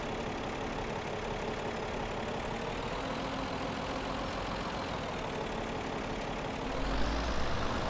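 A John Deere 8530 tractor engine idles steadily in Farming Simulator 17 during wheat drilling, a constant low engine drone heard alone, swelling slightly louder near the end.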